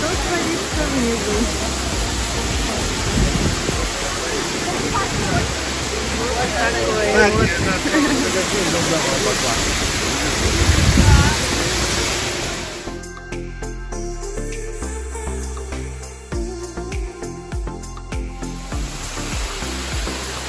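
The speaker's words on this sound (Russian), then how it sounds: "Сейчас пойдем к самому водопаду. Наверх. Тот самый водопад." A waterfall near Batumi, Georgia, makes a loud, steady, roaring wash with voices faintly underneath for about thirteen seconds, then drops to a much quieter, sparser background.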